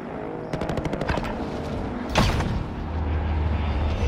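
Automatic gunfire in a multiplayer battle-royale video game: a rapid burst of shots in quick succession, then a sharper loud blast and rumbling aftermath, with game background noise throughout.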